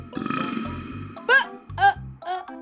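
Exaggerated burping sounds in a read-aloud children's monster story, several gurgling belches in a row mixed with animated vocal effects, performed close and loud by a voice imitating burps.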